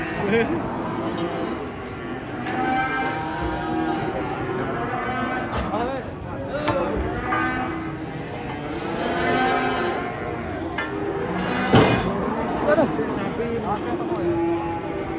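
Giant cattle being unloaded from a truck moo repeatedly amid a busy scene, with people talking and calling out over the lowing throughout.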